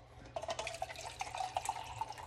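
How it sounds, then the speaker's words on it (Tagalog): Water pours into canned coconut milk in a cooking pot, a faint, close trickling with bubbly splashes and gurgles over a couple of seconds, no talking. "Pagkatapos, lalagyan ko ng kalahating tubig"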